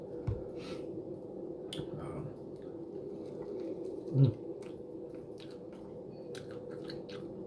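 Someone eats air-fried chicken wings and loaded tater tots up close. Soft, intermittent chewing and mouth sounds repeat over a steady low background hum, with one louder bite or crunch around the middle.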